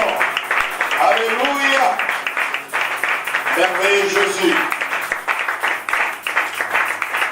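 A church congregation at a French-language worship service claps and calls out praise, with raised, song-like voices riding over a steady wash of clapping that runs throughout.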